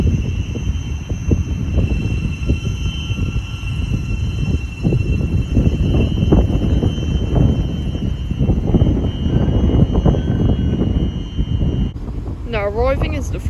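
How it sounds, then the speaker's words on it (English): A Class 700 passenger train at Cambridge station makes a steady, loud rumble with wind buffeting the microphone and a constant tone above it, and a short rising and falling whine comes near the end. "here we have 700-103, which will be the 1411 Tamsinx service from Brighton to Cambridge"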